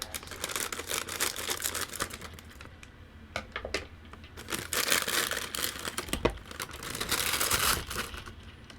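Plastic packaging for a C-clamp from a BM800 studio microphone bundle is cut open with scissors, giving close, irregular crinkling and snipping bursts with short pauses, loud and without talk.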